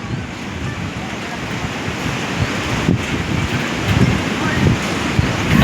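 Sea waves surge and crash on the shore during a typhoon, a loud rolling roar that swells and breaks repeatedly, mixed with gusting wind noise buffeting the microphone.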